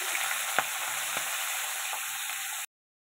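Spinach drops into hot oil after a spice tempering and sizzles loudly and steadily in the pan, with a few sharp crackles and utensil taps before the sound cuts off abruptly.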